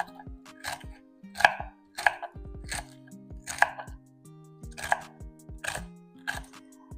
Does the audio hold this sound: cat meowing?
no